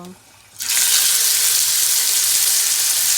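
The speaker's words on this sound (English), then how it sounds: "my oil is ready, so I'm gonna add my steak" A venison steak dropped into hot oil, which after a brief quiet moment bursts into a loud, close, continuous sizzle that holds steady to the end.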